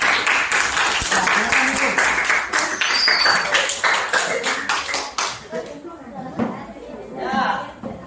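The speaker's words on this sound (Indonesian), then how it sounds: "tepuk tangan untuk kelompok 1" A classroom group gets a burst of applause with many hands clapping close by, fading out after about five seconds, while a teacher speaks and students chatter.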